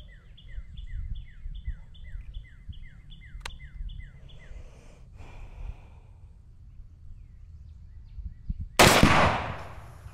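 A rifle shot striking a Firebird exploding target outdoors, one sharp loud blast near the end after quiet ambience with repeating bird calls and a faint thump earlier.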